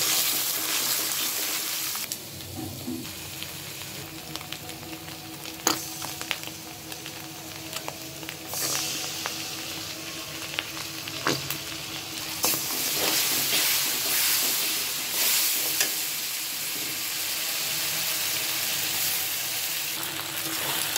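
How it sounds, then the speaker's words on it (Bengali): Pasta cooking in a pan with chotpoti (chaat) masala gives off a soft, steady sizzle and hiss, with occasional light clinks of stirring. "পাস্তা রান্না করবো।"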